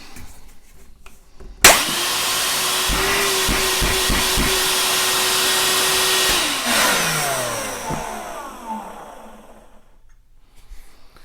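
A Ryobi 1+ cordless wet/dry vacuum starts with a sharp click and runs for several seconds with a loud, close motor whine and rushing air, a few brief bumps along the way, then winds down with a falling pitch into quiet.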